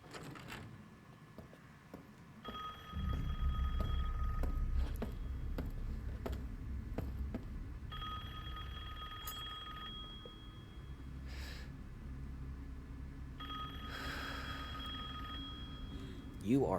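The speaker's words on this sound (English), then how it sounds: "Ooh, phone call." A phone rings in Resident Evil Village, sounding as three separate bursts of ringing spread across the stretch over a steady low rumble of game ambience.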